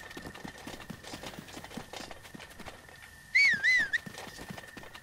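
Hooves clip-clop from a horse in the video game Breath of the Wild, a steady light rhythm of soft hoofbeats, with a brief whistle rising over them near the end.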